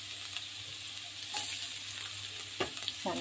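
Vegetables stir-fried for a vegetarian Chinese dish in a reused wok still oiled from frying tofu, giving a steady close sizzle with a few scraping stirs of a spatula and clanks near the end.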